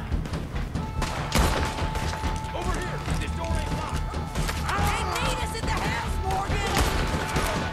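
Gunshots ring out in a Red Dead Redemption 2 shootout, sharp cracks and crashing impacts scattered through the clip amid the din of battle, while a person talks over the action.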